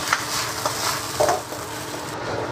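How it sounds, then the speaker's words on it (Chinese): Vegetables stir-frying in a wok with a little oil: a steady close sizzle with a few light scrapes and taps, no talking. "锅内下入少许油，把这个菜先炒一下"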